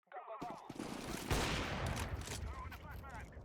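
Counter-Strike 2 replay gunfire, a short burst of shots erupting after a brief quiet start, then a dense rattling fusillade with echoing tails and lighter scattered sounds trailing off.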